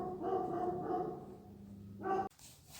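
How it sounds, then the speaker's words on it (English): A stray dog barks just outside a door in Chiatura, Georgia, giving three or four harsh barks at moderate distance, the last one louder before the sound cuts abruptly to room noise. "The dog you hear just outside our door is another stray that we've sort of adopted."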